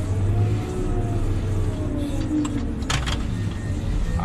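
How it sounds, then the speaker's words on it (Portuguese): A tractor moving on a road construction site where a motor grader spreads base material, its low diesel engine rumbling steadily and drawing nearer, with faint clanks and rattles rising over the engine. "Agora eu vou esperar o trator chegar aqui"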